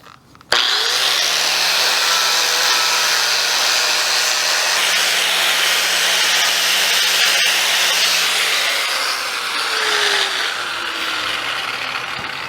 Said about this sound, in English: I'm going to take my grinder and just clean this up just a little bit.